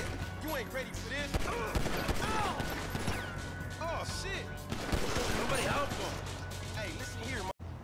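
Rapid bursts of gunfire and shots ring out in the GTA V video game, dense volleys with sharp cracks and echoing tails over continuous game sound, then a brief cut near the end.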